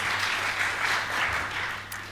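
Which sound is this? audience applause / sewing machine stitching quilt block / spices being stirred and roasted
audience applause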